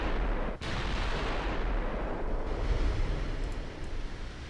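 Warship guns fire at a battlecruiser in a naval game: a dense, continuous low roar of heavy gunfire and rumbling blasts, loud and close, with one sharp break early on.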